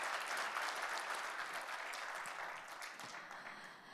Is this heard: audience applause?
yes